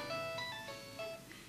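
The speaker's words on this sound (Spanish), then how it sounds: "Olvidé apagar mi celular" A mobile phone ringtone goes off during a church sermon on parenting, playing a clear electronic melody of steady, sustained tones at moderate volume with no talking over it.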